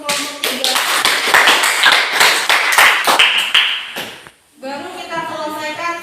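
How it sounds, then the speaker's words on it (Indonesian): An indoor audience claps for a student group at a university teacher-training session, a dense burst of applause lasting several seconds before it cuts off, followed by a voice speaking. "Kita berikan aplaus untuk kelompok 3."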